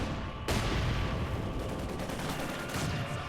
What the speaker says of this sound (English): Use my Katyusha rocket to start doing some barrages on these guys down here.